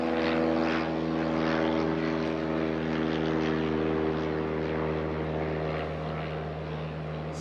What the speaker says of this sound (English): So the Antalya flight, just taxiing out